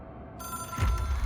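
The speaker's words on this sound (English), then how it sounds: "It is a phone." A telephone rings in the video game Control, a bright trilling bell that starts abruptly and grows louder, with a low thump near the end.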